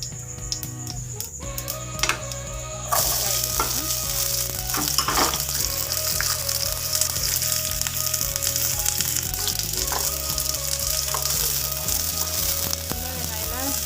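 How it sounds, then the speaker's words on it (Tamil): Spices frying in a pan for beef chukka, starting quieter then bursting into a loud, sustained crackling sizzle with scattered pops and some stirring, close up and without talk. "நல்லா பொரிஞ்சு வருது"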